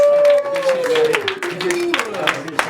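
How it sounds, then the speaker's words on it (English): Crowd clapping breaks out at a Coloradorap rap battle between two rappers, a dense spatter of claps in the room under a voice talking over the top and a sustained tone at the start. "Clap it up, clap it up."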